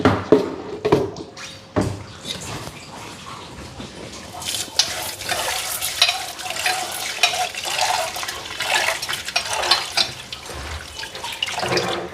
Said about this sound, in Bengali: এরা ধুইয়া দেয় ডালটা